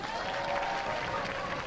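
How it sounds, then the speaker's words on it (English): Studio audience applauding at a robot combat show, a steady dense wash of clapping and crowd noise that holds at an even level throughout. "ladies and gentlemen, give them a round of applause"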